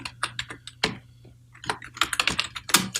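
Rapid, irregular keystrokes clatter on a computer keyboard as a restore point name is entered in Windows, close and clear with short pauses between bursts of typing.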